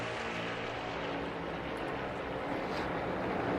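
A NASCAR stock car roars steadily through practice at Daytona for the 2022 Daytona 500, a dense, continuous engine drone that holds at a constant level with no voices over it.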